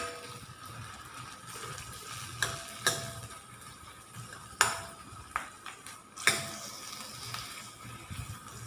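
A spatula stirring brown rice flakes with chopped onion, green chilli and curry leaves in a pan: several sharp scraping clinks at irregular intervals over a faint sizzle, close up, with no voices.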